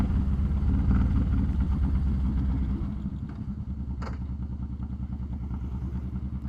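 A motorcycle engine with a non-single-crank-pin V-twin layout revs high with a crackly, rattling edge, loud and close, then settles to a steadier lower drone partway through.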